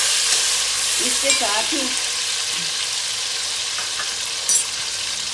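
Tomatoes go into a pan of frying aloo baigan (potato and eggplant), giving a steady soft sizzle with a brief stirring clatter near the start while someone speaks briefly over it.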